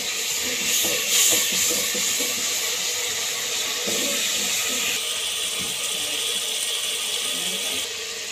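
Spices and yogurt roasting in a hot pan give off a steady, loud hissing sizzle that stays even throughout, alone without any talk.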